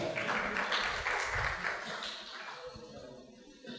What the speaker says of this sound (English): we'll welcome them with a big round of applause.